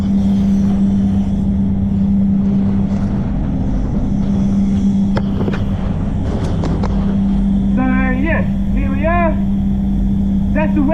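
A spray gun applies PPG wet-on-wet primer to a VW Golf, giving a continuous loud hiss and steady drone under intermittent talking, with some squeaky tonal sounds toward the end.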